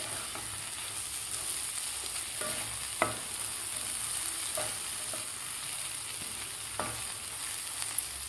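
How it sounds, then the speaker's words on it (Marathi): A spoon stirs brinjal masala curry with crushed peanuts in a pan, scraping in sparse, soft strokes over a faint steady sizzle. "त्यानंतर आपल्याला आता शेंगदाण्याचं कूट घालायचं आहे यामध्ये। आता व्यवस्थित आपल्याला हलवून घ्यायचं आहे।"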